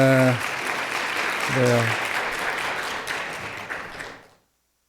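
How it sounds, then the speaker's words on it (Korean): Congregation applause at a church Sunday worship service, a loud burst of clapping under a brief spoken word that fades out after about four seconds. "박수로 담아서 인사하겠습니다."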